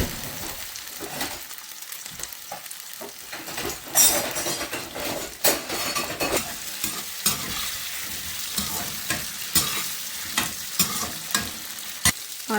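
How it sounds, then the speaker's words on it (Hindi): Ingredients for a banana cake frying in a pan, a continuous close sizzle broken by repeated scraping stirs and clinks of a utensil against the pan, with no talk. "तो यहाँ पे मैं फ्राई कर देती हूँ थोड़ा।"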